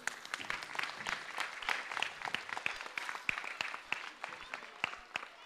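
Audience applause at a stage event, a steady patter of clapping with sharp individual claps rising above it across the whole stretch, of moderate loudness and somewhat distant.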